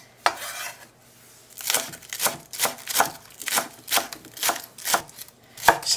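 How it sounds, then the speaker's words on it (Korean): A knife chops green onion rapidly on a cutting board, a steady run of crisp, evenly spaced strikes after a brief pause, close and clear with no talking. "대파는 좀 송송 한 뿌리를 썰어보겠습니다"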